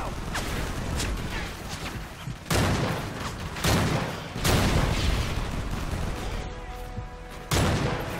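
Repeated heavy gunshots and booming blasts fire in Call of Duty: Modern Warfare 3 combat, loud and close, landing every second or two over a constant rumbling battle din.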